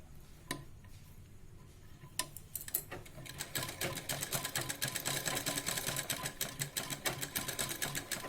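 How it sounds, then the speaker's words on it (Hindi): A sewing machine stitches round the curved, piped edge of a princess-cut blouse, starting with a few scattered taps and clicks, then settling into a steady, close, rapid whirring rattle that runs alone to the end. "धीरे धीरे थोड़ा सिलेंगे इस तरह करते हुए, पूरा गोलाई को लेते हुए इस तरह पूरा सिल देंगे"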